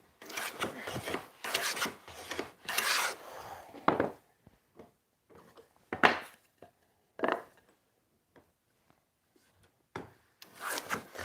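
Hand tool working wood on a Tie Fighter model build: several bursts of rough scraping strokes, then sparser short scrapes and taps separated by pauses, close and moderately loud, with no talk.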